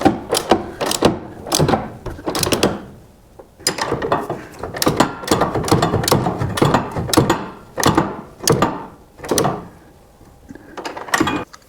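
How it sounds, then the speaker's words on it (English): Torque wrench tightening lower control arm bolts on a classic Ford Mustang during a cross member install, a close series of ratcheting clicks in irregular bursts with brief pauses between pulls. "we're going to wrap this up by torquing these lower control arm bolts to 90 foot-pounds"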